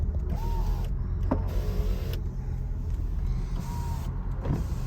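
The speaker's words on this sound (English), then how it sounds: "All the power windows work." Power windows on a 1983 VW Quantum Wagon run down and back up, a steady electric motor whine with a few creaks and clunks as the glass stops, close and alone over a low idle rumble.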